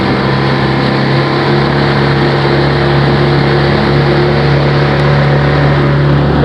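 Small motorboat turning under power, its motor droning loud and steady close by, with water rush mixed into a constant, unbroken engine tone.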